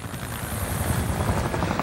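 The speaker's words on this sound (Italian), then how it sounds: "Ma che dobbiamo combattere contro l'elicottero adesso?" A helicopter in the video game Call of Duty Modern Warfare throbs with a steady low rotor chop and engine drone, loud and continuous.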